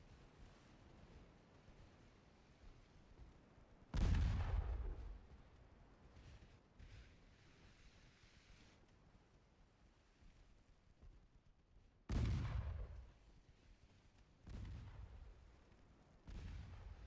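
Ship guns fire in the naval video game Ultimate Admiral Dreadnoughts, with four heavy booming blasts spread apart, each decaying into a long rumbling tail over a quiet wind-like background.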